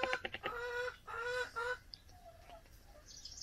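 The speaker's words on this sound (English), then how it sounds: "we'll see how the Polytunnel chickens are doing" Chickens in a polytunnel cluck nearby in a quick burst of calls, followed by softer, fainter clucks and rustling.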